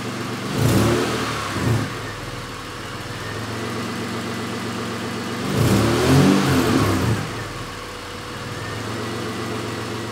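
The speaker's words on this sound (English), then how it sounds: "After I finished syncing the timing, the engine ran even better than before" A Honda Odyssey minivan engine fitted with an AEM ECU, freshly timing-synced, idles steadily and gets two distinct throttle revs, one short early blip and a longer rise later, each dropping back to a smooth idle.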